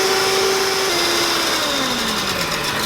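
An electric hand mixer runs on high, beating eggs with baking powder and salt for a sponge cake batter: a loud, steady motor whine whose pitch slowly sags as the load thickens, with no talking.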